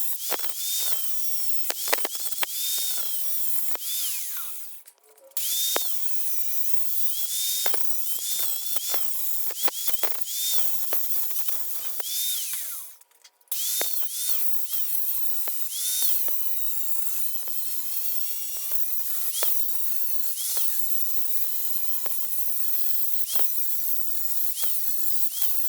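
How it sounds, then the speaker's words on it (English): A power tool cuts a notch in a steel table for a belt grinder, its harsh grinding screech running almost continuously, loud and close, with two brief pauses before resuming. "And here I'm cutting out the notch for the new steel table."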